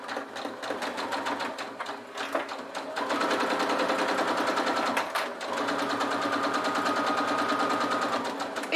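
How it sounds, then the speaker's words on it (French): A sewing machine runs a straight stitch through fabric, its needle chattering in a rapid, steady mechanical rhythm that pauses briefly and then continues close and loud. "je vais faire une couture au point droit à 1 cm du bord"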